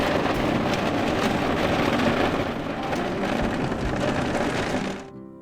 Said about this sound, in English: Well, it just rained and rained and rained.